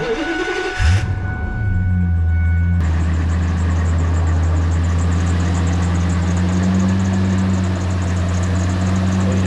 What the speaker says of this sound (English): This truck is the V10 gas engine, and it has one of those MagnaFlow old guy chambered mufflers